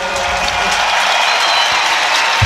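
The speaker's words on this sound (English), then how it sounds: "Please, one applause for hospitality and for Billy Bolt" Stadium crowd at a Serbian SuperPole event applauding, a loud, sustained roar of many hands clapping in a large space with crowd noise blended in.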